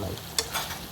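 Pork belly (liempo) frying over lowered heat in a pan, a soft steady sizzle with a brief stir or scrape near the middle, close and alone.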